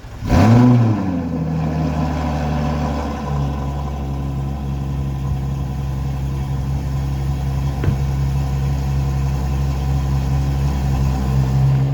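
A Ferrari LaFerrari on a road test along a bypass gives a brief engine rev at the start, then settles into a steady, continuous engine drone with road noise; no talking.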